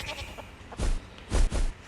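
Goat bleats in a video game, Animal Discovery 3D, in short bursts, three distinct cries with gaps between them, fairly close over a quiet game background with no talking.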